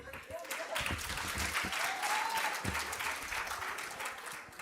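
Lukewarm applause from an audience at a forum on peaceful elections, steady scattered clapping mixed with faint talk and murmurs for several seconds.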